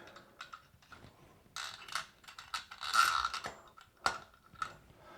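A standard Phillips screwdriver drives screws for a Toto Washlet toilet seat by hand, making faint close clicks and creaky ratcheting scrapes in short uneven bursts, with brief rubbing sounds between them and no talking.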